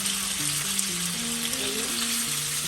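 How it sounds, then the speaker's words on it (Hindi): Chicken pieces frying in oil for a stir fry, a steady loud broadband sizzle crackling continuously throughout, with faint low tones beneath. "5 से 6 मिनट लगता है चिकन फ्राई होने में।"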